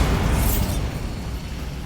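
A Bombarda spell blast in a Harry Potter video game bursts loudly at once, then a rumbling, crackling decay trails off over about two seconds with no voices.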